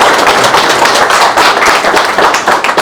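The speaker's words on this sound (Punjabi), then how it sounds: "ਅਸੀਂ ਵਾਰਸ ਬ੍ਰਦਰ ਦਾ ਵੈਲਕਮ ਕਰੀਏ ਤਾੜੀਆਂ ਦੇ ਨਾਲ" An audience at a Brisbane event claps to welcome the Waris brothers with a short, dense burst of applause, loud and close, with no pause throughout.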